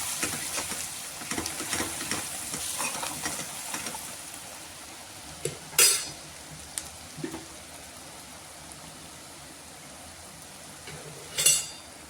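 Pav bhaji masala, spices and salt sautéing in a pan for homemade pav bhaji: a quiet, uneven sizzle with faint stirring, broken by a couple of sharp metallic clinks and scrapes, no voices.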